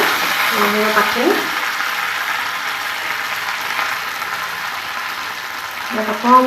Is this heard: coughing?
no